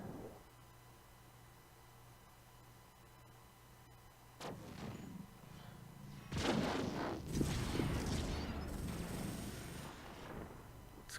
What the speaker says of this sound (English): Laser fire going off all directions.